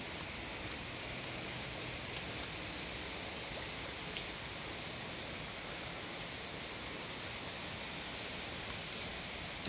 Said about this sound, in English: But when it's raining, there's nothing you can do